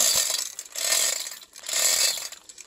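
A hoist over a 50-metre borehole pump is loosened and lowered, giving three long bursts of close, grinding mechanical ratcheting with brief dips in between and no voices.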